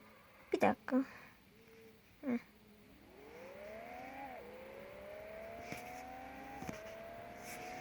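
A car accelerates in the Car Parking video game, its engine tone climbing through the gears in rising whines after a few brief thumps, moderately loud.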